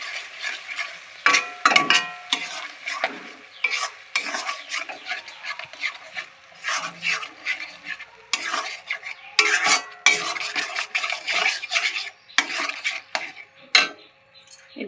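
A spatula scrapes and clanks repeatedly against a pan as chicken masala is sautéed and stirred, with irregular metallic bursts over a soft sizzle and no speech.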